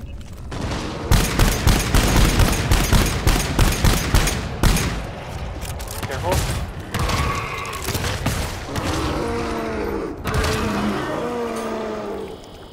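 Rapid bursts of HC pistol fire in a fog-filled video game, a loud dense volley of repeated shots in the first seconds that thins into scattered shots and game noise, with a voice talking over it.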